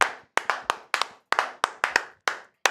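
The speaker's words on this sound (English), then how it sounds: "Round of applause." Crisp, close hand clapping from a live sports streaming show's host celebrating the end of the broadcast: about a dozen sharp claps in uneven bursts with short gaps, no voices.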